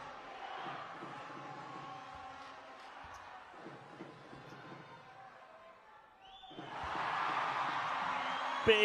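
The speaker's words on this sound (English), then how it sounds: "Big cheer." Arena crowd at a FIBA World Cup 2019 qualifying men's basketball game rising into a loud, sustained cheer after a made free throw, following quieter crowd murmur and commentary-like voices underneath.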